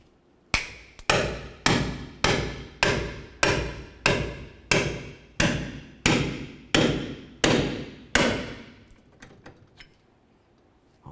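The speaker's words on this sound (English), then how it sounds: "We're going to be replacing the ball joint, so for me, I'll continue with a pickle fork." A hammer strikes a pickle fork to split a ball joint from the steering knuckle of a 2004-2006 Scion xB, eleven sharp metallic blows at an even, steady rhythm, each ringing briefly before the next, then quiet.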